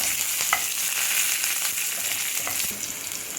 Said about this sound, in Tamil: இப்போ நம்ம பச்சை மிளகாய் போட்டுக்கலாம்